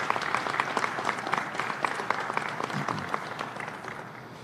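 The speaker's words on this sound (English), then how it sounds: "let's give the workers here a big round of applause for what they do" Transit workers at an NJ TRANSIT facility receive applause, a steady burst of many hands clapping close by, sustained throughout and tapering slightly at the end.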